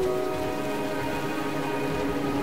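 Rain falls steadily in the video game Rain, a continuous close hiss of drops over a background of sustained tonal music, with no voices.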